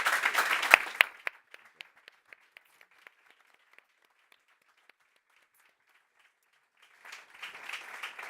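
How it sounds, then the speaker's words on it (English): Audience applause for conference panelists at a digital policy event: a burst of clapping that thins to scattered isolated claps, a near-silent lull, then a fresh wave of applause near the end. "Can we please give a round of applause to these amazing panelists?"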